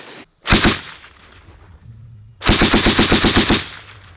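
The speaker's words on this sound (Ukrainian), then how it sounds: "Кулемет готовий до стрільби." Bursts of machine gun fire at a Ukrainian military firing drill, two loud close strings of rapid shots separated by a short pause, each burst sharp and rhythmic.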